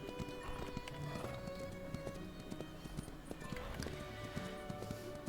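Hooves clip-clop in a steady, busy rhythm, with horses snorting and an occasional whinny over a dense, continuous background, in the ranch video game Ranch of Rivershine.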